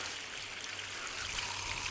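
Water drains in a steady, soft gurgling trickle from a disconnected water line outdoors in the woods, faint and continuous with no voices.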